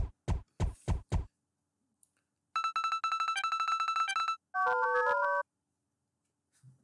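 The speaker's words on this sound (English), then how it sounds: "That was just a phone noise" A few quick knocks give way to a bright electronic phone tone of repeated beeps, then a short run of stepped dial-up style pitches, each burst clear and alone against silence in a puzzle video game.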